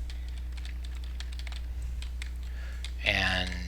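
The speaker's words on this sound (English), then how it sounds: "You can see what's happening with my fingers by looking at my keyboard down there." Fingers rapidly tap a computer keyboard during a World of Warcraft dungeon run in Stratholme. The clicks are quick and irregular over a steady low hum, and a voice briefly cuts in near the end.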